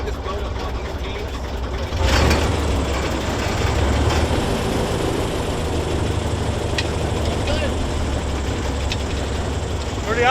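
A bowfishing boat's engine rumbles steadily and low throughout, rising in intensity after a couple of seconds, with faint voices in the background.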